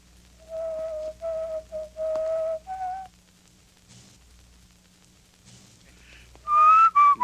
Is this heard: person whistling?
yes